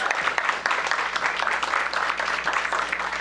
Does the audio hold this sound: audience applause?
yes